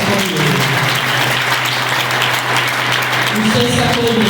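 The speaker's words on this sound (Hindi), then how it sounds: "उसके लिए जोरदार तालियां बजाएं" A congregation at a Sunday holy communion worship meeting breaks into loud, sustained applause, dense clapping filling the hall with a steady drone behind it and a voice briefly heard near the end.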